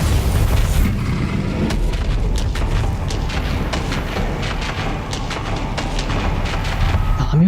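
A Bombarda blasting spell from the game Hogwarts Legacy rumbles as a dense, continuous low boom with scattered sharp crackles, loud and close for the whole stretch, with no speech over it.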